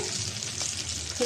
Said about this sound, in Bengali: মাছটা ভাজা হয়েছে,